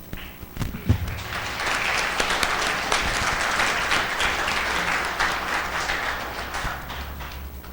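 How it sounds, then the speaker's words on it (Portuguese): A church congregation applauds after a blessing for a couple, a dense and sustained burst of clapping that swells quickly and holds steady, with no talking over it. "já aplaudimos aí o irmão Zé Ramalho"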